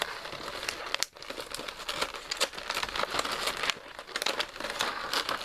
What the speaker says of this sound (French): Enlever le scotch.